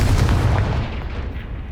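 A Confringo fire spell bursts in Hogwarts Legacy, a loud, deep booming blast right at the start that rolls off and fades over a second or so.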